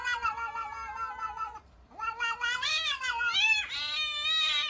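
A cat meows close by in long, drawn-out, rising and falling cries, with a brief pause before a string of sharper, strained yowls.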